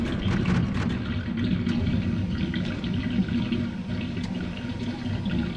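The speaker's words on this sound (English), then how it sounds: "Water going down the drain?" Water gurgling and rushing down a drain in the video game Rain World, a steady, dense wash of liquid noise that runs without a break from start to finish.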